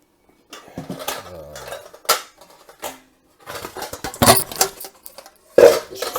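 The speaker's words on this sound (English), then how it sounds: "I need a fucking bowl. We have many." Ceramic bowls and dishes clink and clatter in a home kitchen as one is pulled from a stack, with sharp irregular knocks and scrapes, some louder bangs near the end, and no talking.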